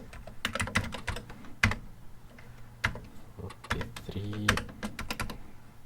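Clicking keystrokes on a worn computer keyboard with some keys in poor shape, typed in quick irregular bursts at close range, with a brief voice partway through.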